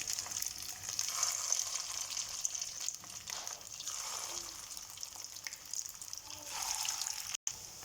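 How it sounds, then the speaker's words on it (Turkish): Meatballs fry in hot oil with a bright, steady hiss and crackle that swells and eases slightly, heard close with no talking until a brief dropout near the end. "Köfteleri birer birer yağın içerisine bırakıyorum."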